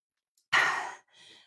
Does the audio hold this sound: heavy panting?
yes